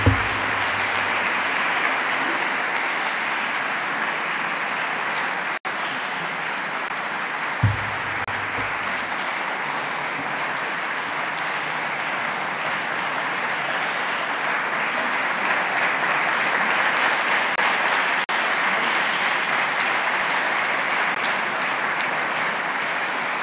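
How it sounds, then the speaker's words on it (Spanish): An audience applauds at length at a public speech event, steady sustained clapping from a large crowd that swells slightly toward the end. "este aplauso era muy merecido"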